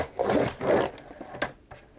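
Paper being trimmed along its bottom edge for a grid junk journal page, with two longer cutting strokes followed by a few lighter snips and rustles, close and fairly quiet.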